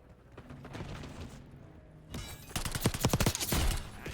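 An enemy automatic turret opens fire in Black Ops 6, a rapid burst of loud gunfire erupting partway through after a quieter stretch of game ambience and mechanical clatter.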